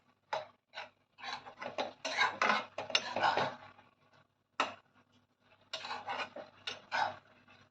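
Dried shrimp (jawla) stirred in oil in a pan: bursts of scraping and rubbing from a spoon against the pan come in rhythmic clusters with short quiet gaps between them, close and fairly clear.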